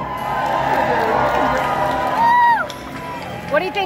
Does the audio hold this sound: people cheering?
yes